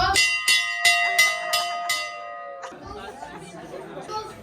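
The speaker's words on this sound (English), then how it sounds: "We're going to ring this bell to celebrate." During a Guinness tasting session in Dublin, a bell rings out in about six quick bright strikes, then its tone fades into the chatter of a group in the room.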